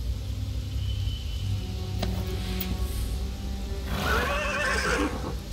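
A horse in the Pillars of the Earth video game whinnies loudly and close by near the end, over a steady background rumble with a few faint hoof knocks earlier.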